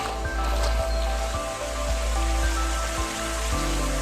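Light drizzle patters steadily along a hiking trail at the Sri Maha Mariamman Temple, a soft continuous wash with faint repeated low thumps running beneath it.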